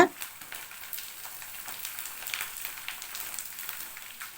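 Oil frying on a medium flame in a cooker, giving a steady close crackling hiss with small popping bursts throughout.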